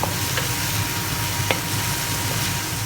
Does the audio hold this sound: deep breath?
no